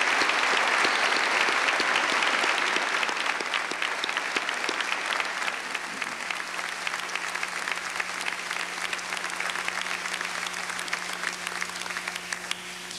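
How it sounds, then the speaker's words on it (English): Sustained applause from a large commencement audience honoring Master of Science in Nursing graduates, a dense steady clatter of many hands lasting throughout and easing slightly in intensity toward the end. "A nice round of applause, please, for all of the Masters of Science in Nursing."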